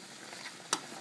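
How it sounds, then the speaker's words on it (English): Ground beef frying in a pan for Cuban-style picadillo, a steady low sizzle with one sharp scrape of the stirring utensil partway through, close and alone. "this is something you want to be stirring frequently because you don't want the meat to clump together like meatballs."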